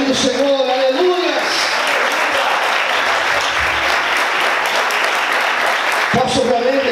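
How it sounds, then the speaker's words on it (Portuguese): A church congregation claps for the Lord during a sermon, loud sustained applause from many hands filling most of the stretch, with a preacher's voice before it starts and again as it fades. "Você pode aplaudir o Senhor, aleluia!"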